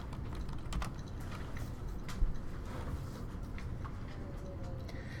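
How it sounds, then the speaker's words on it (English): Soft, quick clicks of a computer keyboard as a word is entered into an Access database table, fairly quiet and close, with a couple of sharper key taps standing out from the light steady patter. "And I'm going to type friend."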